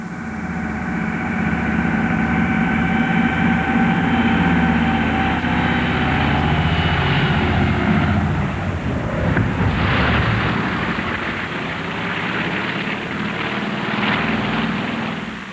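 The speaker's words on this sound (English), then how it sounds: "The Caribou takes off on its third trip to Thule. It circles and returns to land." A de Havilland Caribou transport aircraft takes off, circles and returns to land, its piston engines droning loudly and steadily, swelling and shifting in pitch as it passes, with no voices.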